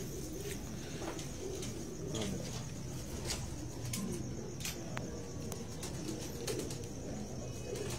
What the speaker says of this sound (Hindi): और ये कबूतर लाते हुए यही लाल पर ही है जी सारे।